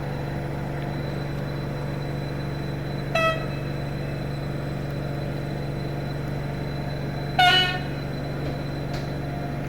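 Railway video game set at a British junction: a train rolls on with a steady engine drone while its horn sounds twice, a short toot followed by a longer, louder blast.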